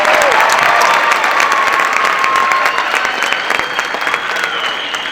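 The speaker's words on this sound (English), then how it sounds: "give them a big round of applause" A school auditorium audience claps for a high school jazz band at a Glendora High School concert, with loud, dense applause and some cheering that carries on steadily and fades only slightly.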